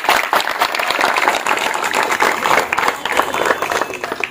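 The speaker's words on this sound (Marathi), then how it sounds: "सगळ्या माऊलींसाठी जोरदार टाळ्या वाजवा" Audience at a community gathering on stage applauding loudly, a dense burst of clapping sustained for several seconds with no speech over it.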